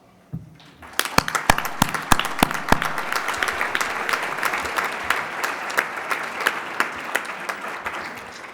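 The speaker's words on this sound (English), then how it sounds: "I'd like to take a moment to recognize those units now with a round of applause" A round of applause breaks out from the audience at a state PTA convention general session, starting with a few sharp individual claps and building into steady, full clapping that carries through to the end.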